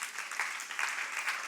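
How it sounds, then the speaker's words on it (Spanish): A church congregation applauding during a worship service, a dense, steady clapping from many hands at moderate distance, brief and unbroken, without talk. "Dale un aplauso al Señor."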